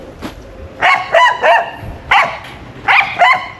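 A dog barks in a rural yard in St. Thomas, Jamaica, loud and close: a single bark, then a run of five sharp barks in pairs and singles, over a quiet outdoor background.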